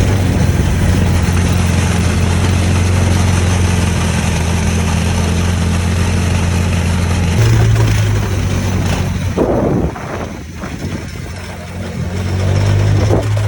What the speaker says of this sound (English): I was driving the big go-kart around